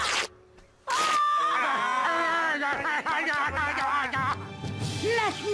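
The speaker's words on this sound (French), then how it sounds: "Qu'est-ce qu'on va faire pour ne plus entendre ce cri infernal?" Infernal, wavering screams and wailing cries rise and fall in a loud, continuous stretch after a brief quiet start, with voices mixed in.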